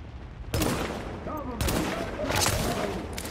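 Gunfire from a rifle in the video game The Division, a burst of sharp shots starting abruptly and continuing in rapid volleys, loud and close, with brief player talk underneath.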